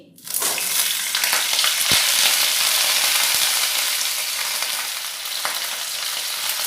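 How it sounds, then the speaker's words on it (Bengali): Cauliflower florets, washed and half-boiled, frying in hot oil for a winter vegetarian khichuri, with a loud, steady broadband sizzle that starts suddenly and holds throughout, plus a brief clatter near the start. "এবারে গরম তেলে দিয়ে দেব ফুলকপি।"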